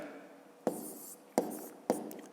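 A pen writes numbers on paper during a fifth-grade math exercise, making three short scratching strokes at close range, each with a sharp tap at the start, in an otherwise quiet room.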